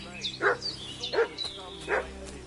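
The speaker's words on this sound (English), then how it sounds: "What's that dog making such a fuss about?" A dog barks three times in Kingdom Come: Deliverance 2, evenly spaced, fairly close and loud, over a quiet game background.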